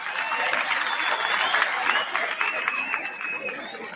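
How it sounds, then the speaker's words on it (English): Audience clapping for teachers at a 60th anniversary celebration of St. Edmund's Secondary School, a dense steady wash of applause from a large crowd lasting throughout, with scattered cheers and voices mixed in. "Shall we just clap for our teachers,"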